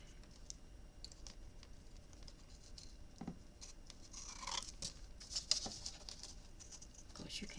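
Scissors trim paper for a flower-themed handmade memory book, a faint run of small snips and paper rustles at close range with quiet soft talking.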